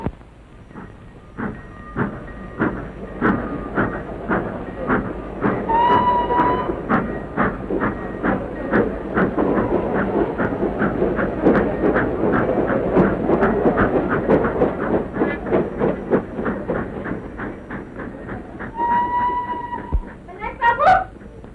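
Old railway train running steadily on the rails, with a continuous rhythmic clickety-clack of wheels over track joints throughout and a tonal whistle sounding twice, midway and near the end.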